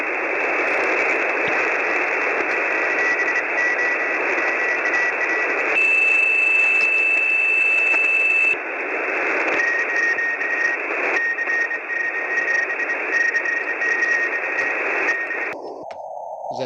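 Band-limited static from a web SDR radio receiver hisses steadily, with faint intermittent tones and a shift in the noise partway through, ending in a muffled change.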